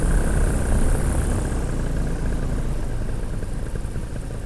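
A paramotor engine runs at a steady, loud drone close by, holding an even pitch throughout with no voices over it.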